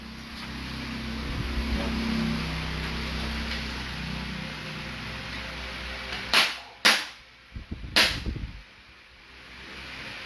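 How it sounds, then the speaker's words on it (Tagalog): Glock pistol fired single shots at a firing range: three sharp, loud reports spaced about a second apart over steady background rumble and hum. "First 3 shots sir, single fire"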